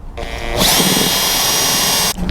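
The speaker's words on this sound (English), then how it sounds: "in the center of the strip wood I just want to drill another pilot hole right the way through" A power drill whines up to a steady, loud, high-speed run while boring a pilot hole through strip wood, then cuts off abruptly near the end.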